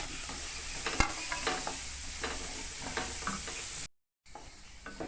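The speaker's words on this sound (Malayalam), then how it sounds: "അതിനുശേഷം ക്യാരറ്റ് കൂടി ഇട്ട് കൊടുക്കാം. എന്നിട്ട് ഒന്ന് ചെറുതായിട്ടൊന്ന് മൂപ്പിച്ചെടുക്കാം." Carrots sautéing in a hot pan, giving a soft continuous sizzle with occasional scraping stirs and one sharp clank. The sound stays close and fairly quiet, with a brief cut to silence near the end.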